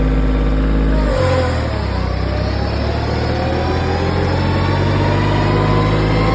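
Kioti CK2610 compact tractor diesel engine, a 35 hp unit detuned to 25 hp with fuel adjusted, revving up from a low idle knock to a loud, steady higher-RPM roar that holds close and continuous.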